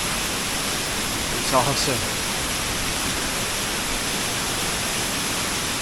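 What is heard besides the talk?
waterfall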